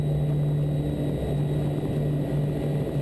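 Steady, loud drone of an airliner's engines spooling at takeoff power on the runway, a continuous hum with a strong low tone that holds evenly for the whole stretch.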